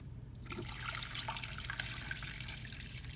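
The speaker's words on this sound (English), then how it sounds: "put the empty reservoir back in the tank, as so, and we'll fill some water in here" Water pours steadily into the reservoir of a Gaggia espresso machine, a close trickling splash that starts suddenly and continues alone.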